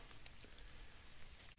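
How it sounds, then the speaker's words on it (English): Steady rain patters on surfaces outdoors, a dense, even hiss of drops with no voices. "It's really raining out here."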